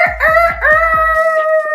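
A person imitates a rooster's crow with a loud, close falsetto cock-a-doodle-doo, broken into several quick stuttering bursts before a held, wavering final note.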